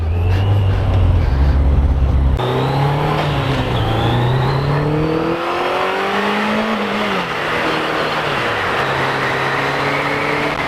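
A motorcycle engine flares into a loud, rising rev after a missed gear shift, then settles back into a steady, droning ride with rising and falling pitch as it accelerates, heard close from the rider's position.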